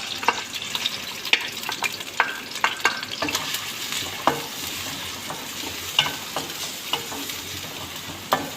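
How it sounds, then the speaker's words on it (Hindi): Chopped onions fry in oil in a pan, a continuous close sizzle broken by frequent sharp stirring clicks and scrapes, with no voices. "यहाँ मैं पैन में ऑयल डाल रही हूँ और साथ ही मैं इसके यहाँ जो हमने प्याज काटी हुई थी वो मैं इसमें डालूँगी"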